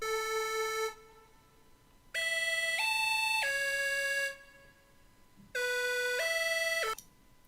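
Bright synth notes pitched up an octave in a beat: three sustained harmonic tones stepping in pitch, separated by gaps, with a shorter two-note phrase returning near the end, clean and alone.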